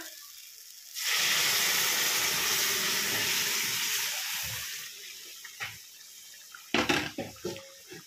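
Water pours into a pan of fried paneer and onion, a loud continuous rushing hiss that starts abruptly and gradually fades, followed by a few clattering knocks and scrapes of the pan.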